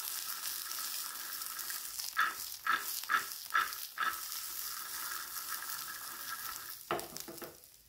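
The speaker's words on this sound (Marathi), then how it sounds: "यामध्ये 1 चमचा तीळ घालायचे आणि छान भाजून घ्यायचे" Sesame seeds roast in a little oil in a pan with a soft, steady sizzle, broken by several clear scraping stirs of a spoon against the pan.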